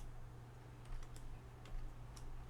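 Keys tapped on a computer keyboard in a quiet room, a few faint, sparse clicks over a steady low hum.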